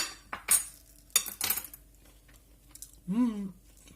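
Crispy homemade fries are bitten and chewed up close, with crunchy bursts followed by a brief murmured voice.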